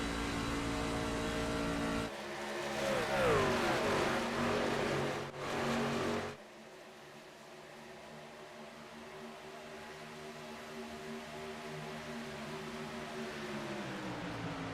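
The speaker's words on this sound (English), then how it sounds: "You can hear Travis lifting out of the throttle just a bit." A loud race truck engine roars close by during a charity race, then its pitch sweeps down and it drops to a steadier, quieter drone as the throttle eases off.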